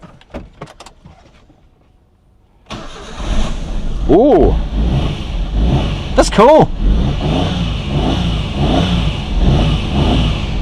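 A Suzuki car engine cranks and catches after a quiet pause, then idles close with two sharp revs rising and falling, while people talk and react briefly over it.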